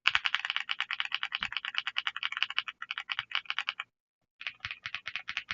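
Rapid clacky keystrokes on a Redragon Eisa mechanical keyboard, close and crisp, typing steadily for several seconds, a short pause, then resuming in a quick run.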